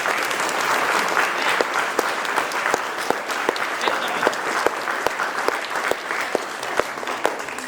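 A crowd of students at a class 9th and 10th debate event applauds a correct answer with continuous, fairly even clapping and a few sharper individual claps throughout.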